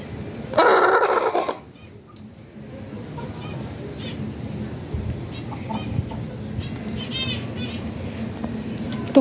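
A white hen suffering heat stress lets out a loud, strained burst of clucking calls up close, then quieter bird noises and low rustling continue underneath.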